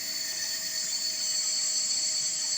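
A homemade supercharged waste oil burner, preheated and melting aluminium, roars with a steady, loud broadband rush and a hissing top end that holds constant throughout.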